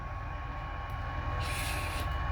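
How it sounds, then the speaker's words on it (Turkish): Train pulling away near a village, a steady rumbling roll with rising hiss and brief bright squeals, continuous and moderately near. "Ha, tren gene kalktı."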